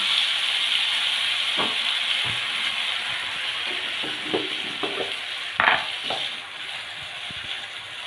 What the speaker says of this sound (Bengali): এবার মশলাটাকে খুব ভালোভাবে তেলের সাথে মিশিয়ে